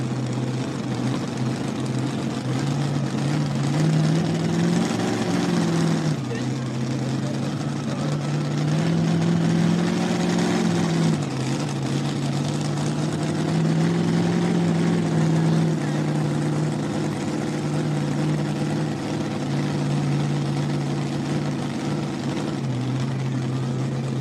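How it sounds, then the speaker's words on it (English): A supercharged tractor-pulling engine with a big blower on top, on a 2,050-pound mini pulling tractor at a Millers Tavern, Virginia event, roaring loud and steady with rising and falling revs, heard from the crowd outdoors. "motor with a big blower sitting on top of it, forcing all that air in these motors"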